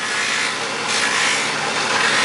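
A rotary tool spinning at around 2,600 RPM lightly polishing the edges of a 1911 magazine spring follower, a steady close whirring and grinding hiss with no pauses.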